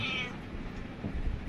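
Garfield, a pet cat, gives one short, high meow up close at the start, followed by quiet room noise.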